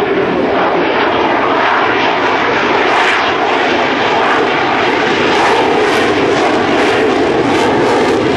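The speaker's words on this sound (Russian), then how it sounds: "Su-30 MK has completed its demonstration flight" Sukhoi Su-30MK jet fighter flying a demonstration at an airshow, a loud, continuous roaring engine rumble that swells slightly as it passes, with no talk.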